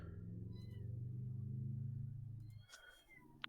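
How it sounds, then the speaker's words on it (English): A faint, soft kitten meow rises briefly amid low steady background hum, with a few small clicks afterward; no talking. "meowing. It's one of my kittens."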